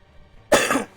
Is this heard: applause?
no